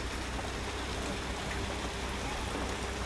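Heavy rain pours down in a dense, steady hiss that stays constant for a few seconds, with no voices over it.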